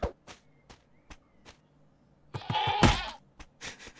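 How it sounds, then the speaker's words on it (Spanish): Cartoon sheep bleating in an animated Peppa Pig Minecraft parody, several short separate bleats followed by a louder, fuller burst of bleating near the end, heard alone without talk. "No, esa sí era Susy la oveja"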